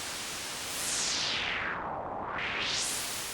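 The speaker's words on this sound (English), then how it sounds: "Listen to it with white noise." Hissing white noise runs through the resonant filter of a Softube Model 72 synth, sweeping down and back up, the ringing tone gliding low then rising again.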